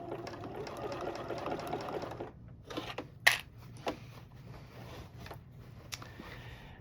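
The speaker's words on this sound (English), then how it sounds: "I'm going to back stitch that just a little." Sewing machine back stitching quilt binding, a quick close run of rapid needle stitching for about two seconds, then quiet clicks and small knocks as the machine stops.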